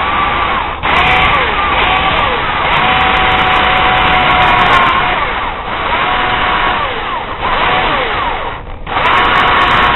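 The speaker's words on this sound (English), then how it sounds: "So I want to drill straight down into it." An electric drill whines steadily and loudly, close up, with brief pauses and restarts as it bores straight down into a wooden crankbait fishing lure.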